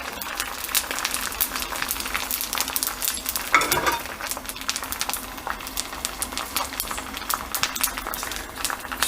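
Pork skin chicharron frying in a crowded pan, giving a steady, dense crackling sizzle full of rapid pops that runs unbroken from start to finish, close and fairly loud with no talking.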